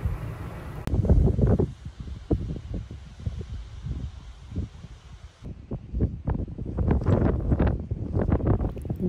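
Steady roar of strong wind buffeting the microphone near dunes and a beach, gusting and rumbling continuously throughout, against a VW California camper van.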